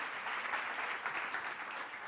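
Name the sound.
audience applause for conference panelists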